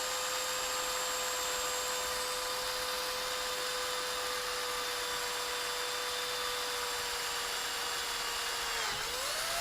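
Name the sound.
drill with new bit drilling through action camera case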